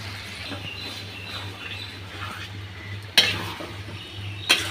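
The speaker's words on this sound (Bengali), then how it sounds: "এটা ভালো করে আমি এভাবে 15-20 মিনিট পর্যন্ত কষিয়ে নেব" Beef and jackfruit seeds fry in a pan with a steady sizzling hiss, broken by two sharp scrapes of a spatula stirring the meat, close and continuous.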